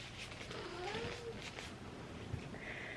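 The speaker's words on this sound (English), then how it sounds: "My cats are talking to the birds outside" House cats meowing toward birds outside an open window, a few soft, wavering calls at moderate distance over a steady background hiss, with no talking.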